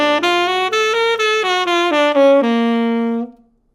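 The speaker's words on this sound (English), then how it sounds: "On a dominant chord, it ends up clashing. It's going to sound like this." An augmented scale is picked on guitar against a sustained dominant chord, a string of clear, evenly paced notes that clash with the backing, ending on a held note that decays away.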